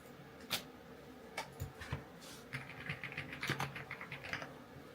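Computer keyboard clicking from steady typing, a run of sharp, fairly close keystrokes in irregular bursts with short pauses, quiet under a soft room background and no talk.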